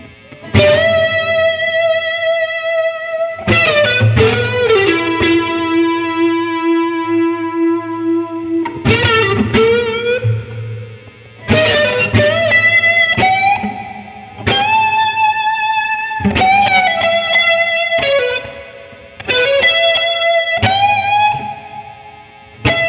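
A loud electric guitar through a King Tone Soloist pedal plays sustained lead notes and bends, shimmering with chorus and washed in plate reverb, phrases separated by brief gaps.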